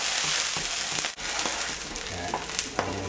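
General Tso's chicken sizzles and pops steadily in a hot pan while being stirred, with a dense continuous crackle and scattered sharper pops, close up and fairly loud.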